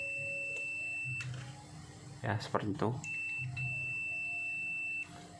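Multimeter buzzer on continuity test, sounding while the probes touch a fuse to check it is intact: a short burst of loud, broken beeping between two quiet stretches with a steady electrical tone, while someone talks before and after.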